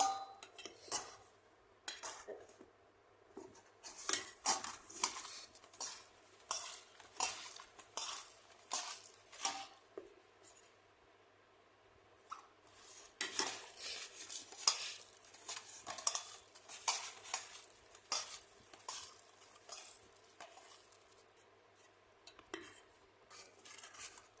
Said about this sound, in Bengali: এই যে দেখুন বেসনটা আমি এবার এই পাতার মধ্যে দিয়ে দেবো